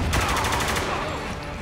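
Rapid gunfire from the shooter game Spec Ops: The Line rattles close and loud in a dense volley that fades slightly over under two seconds.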